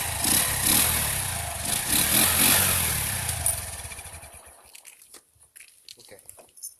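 A modified motorcycle engine tuned to mimic a sports bike revs loudly and raggedly up close for about three seconds, then drops off, leaving faint clicks and mechanical ticks.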